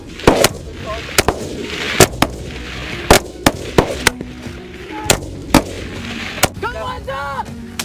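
Military weapons fire in sharp, loud bursts, roughly a dozen separate shots spaced unevenly over several seconds, some close and booming, with shouted voices in between.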